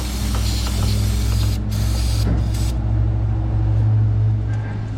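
Dirt being sprayed off the fuel lines of a Sierra 6.6 Duramax turbo diesel truck: a steady, loud, close hiss of spray over a low mechanical hum, with brief breaks in the hiss.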